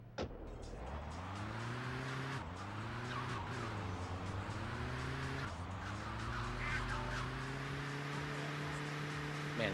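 A slow car in Grand Theft Auto 2 drones steadily, its engine pitch sliding up through gear changes, with tyre skids squealing over it throughout.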